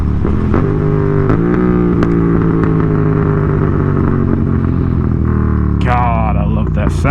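A Yamaha FZ07 motorcycle fitted with an SC Project exhaust idles loud and close, with a steady harmonic burble, then blips its throttle in sharp revs near the end, while a voice talks over it.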